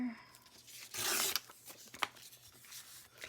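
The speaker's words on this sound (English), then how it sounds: "we're just going to rip it off here" Paper being ripped off for an envelope craft, a close bright tearing rasp lasting about a second, followed by softer rustles and small crinkles.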